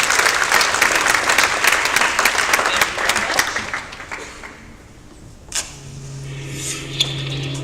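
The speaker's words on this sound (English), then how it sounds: "Please give them both a round of applause and welcome them up on stage" An audience at a sustainability talk gives a round of applause, a dense burst of clapping that thins out and fades over several seconds, followed by quiet room noise and a low hum.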